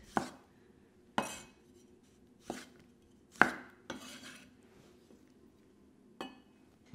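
A knife cuts a tomato into wedges on a board, six sharp, separate knocks spaced irregularly about a second apart, close and clear against a quiet kitchen.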